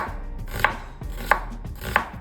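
A knife chops through an onion on a cutting board in three crisp, evenly spaced strokes, close and clear, with no talking.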